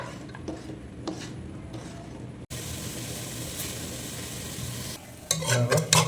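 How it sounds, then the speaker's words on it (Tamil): Onions sizzle in a pan while being stirred for an ayila fish curry. The frying hiss is steady, with scraping and clinking of a utensil against the pan, and it grows louder and busier near the end. "ஸோ நம்ம இப்போ நான் வெங்காயம் போட்டுக்கிறேன். வெங்காயம் மட்டும் போட்டுங்க."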